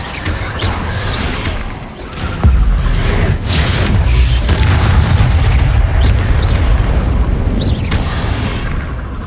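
Loud, dense magical blasts from Bombarda and Confringo spells in Hogwarts Legacy, with booming explosions and crashing impacts overlapping continuously without pause.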